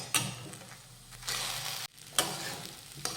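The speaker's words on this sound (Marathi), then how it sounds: "आता यामध्ये चवीनुसार मीठ घालूयात मिक्स करून घेऊयात" Coarse sabudana khichdi mixture being mixed with salt in a pan, rough scraping and stirring in uneven bursts with a short pause midway, close and moderately loud, no talk.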